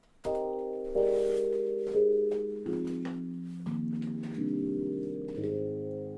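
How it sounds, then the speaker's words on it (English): Sustained synth chords change every second or so while a tempo-synced low-pass filter repeatedly dulls and reopens the bright top end, giving a rhythmic filtered sweep. "the low pass filter will like recede and then come back"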